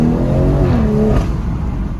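A car engine drones loud and close on a test drive of newly set XHP ignition-cut shifting, its pitch sliding as the revs change, with no talking.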